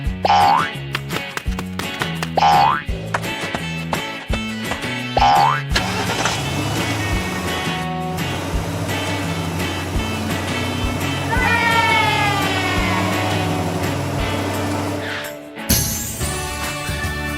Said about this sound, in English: The whole family quickly got ready, hopped into the car, and set off.